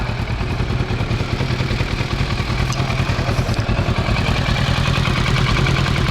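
A Kawasaki Versys 650 motorcycle fitted with an Akrapovic exhaust idles close by, a loud, steady mid-low engine burble with rapid even pulses and light mechanical clatter, continuous with no talking.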